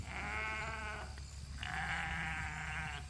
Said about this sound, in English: sitting out with the sheep